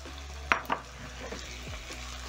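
Potatoes go into a pan with onions frying over medium-low flame. Two quick clatters land near the start, then a soft, steady sizzle carries on under them.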